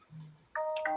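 A phone ringtone mimicking a doorbell chimes out in a bright, close multi-tone ding-dong pattern after a brief low murmur.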